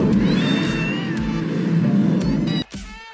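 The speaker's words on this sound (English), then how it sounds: "That was a cat noise." An electronic meowing cat sound plays from a Kamen Rider toy belt, with warbling, synthetic-sounding cries over a low hum, then cutting off abruptly.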